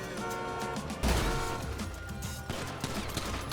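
Gunfire from a car in the game GTA: sustained rapid shots and crashing impacts, dense and loud throughout, with a heavier burst about a third of the way in, no voices.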